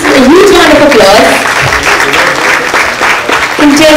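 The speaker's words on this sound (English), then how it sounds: "A huge round of applause." Loud, close applause from the audience at an Elite Model Look India contest, mixed with voices and a few shouts from the crowd, sustained across the whole moment.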